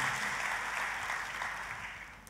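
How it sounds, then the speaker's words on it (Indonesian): A church congregation applauds together in a steady wash of clapping that fades slightly toward the end, with no voices standing out. "Tepuk tangannya pula yang paling meriah buat Tuhan kita."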